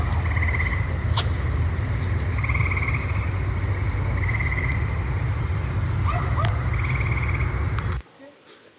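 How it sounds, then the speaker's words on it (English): Tree frogs croak on a warm night in Pennsylvania, repeating trilled calls at a steady pace over a low rumble of distant highway traffic, until the sound cuts off abruptly near the end. "Yeah, it sounds like Pennsylvania County with the tree frog."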